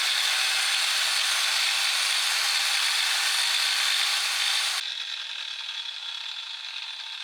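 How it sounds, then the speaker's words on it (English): A power tool runs continuously in a garage with a steady, loud, high-pitched whir that suddenly drops to a lower, quieter drone partway through, with no talking. "He's now gone to the power tools."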